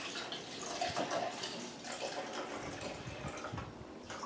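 White wine, about three quarters of a cup, is poured into a sausage mixture as a continuous close splashing trickle that stays fairly steady for several seconds. Nobody speaks over it.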